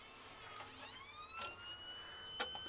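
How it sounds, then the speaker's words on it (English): A siren wails from an old interceptor siren box on a Cushman Truckster tuk tuk, rising and falling in sweeping tones at moderate, fairly quiet volume, with brief bursts of noise in between. "Crank up the old siren box here."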